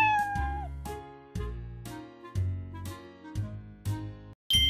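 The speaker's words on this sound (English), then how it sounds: "That's a cat." A domestic cat meows repeatedly, several distinct drawn-out calls in an uneven rhythm, clear and close with short gaps between them and no talking.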